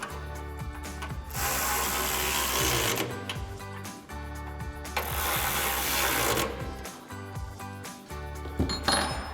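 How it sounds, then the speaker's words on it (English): A socket ratchet tightens 10mm bolts on a Ford F-150 front bumper, giving two long bursts of fast, loud clicking close up, separated by quieter handling and pauses, with no speech. "we'll go ahead and tighten this down using our 10mm wrench and our 10mm socket on our ratchet"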